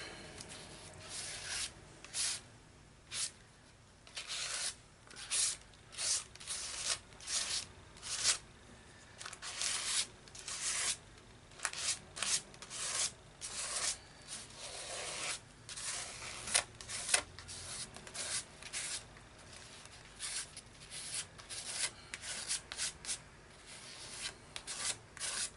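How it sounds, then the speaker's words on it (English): Paint scraped across a mixed media craft surface, a run of close, irregular rasping strokes with short pauses between them and no talking. "you scrape your paint on"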